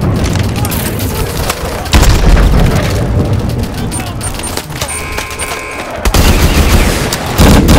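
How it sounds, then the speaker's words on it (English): Game combat from Call of Duty: Advanced Warfare during an assault on a Titan, with a launcher firing: loud booms and dense gunfire bursts over continuous battle noise, with radio-style talk running underneath. "Mitchell, grab that launcher and take down that Titan."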